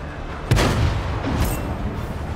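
A Somua tank's main gun fires once in a video game, a sharp boom followed by a short rumbling tail, with a fainter second report about a second later.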